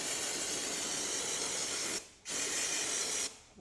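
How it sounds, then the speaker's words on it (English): An aerosol can of brake cleaner sprays in a loud, close hiss onto motorcycle transmission parts in a workshop, one long burst that breaks briefly, then a second burst that cuts off. "We'll hose this thing down with some brake clean"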